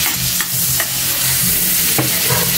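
Minced garlic hitting hot oil in a pan while cooking upo squash, a steady loud sizzle with a few sharp clinks of a utensil against the pan.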